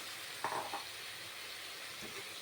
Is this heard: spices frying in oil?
yes